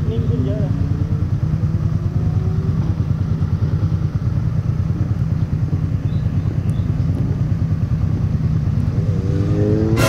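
A motorcycle ridden along a road in Thailand: a loud, close, continuous engine drone with wind buffeting, and voices talking underneath.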